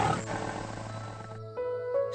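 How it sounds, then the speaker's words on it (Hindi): A lion roars in a Hindi moral-story cartoon, a loud, sustained growling roar lasting about a second and a half, followed by a shorter second roar with a tonal layer of cartoon music underneath. "इतने में शेर की दहाड़ सुनाई देती है।"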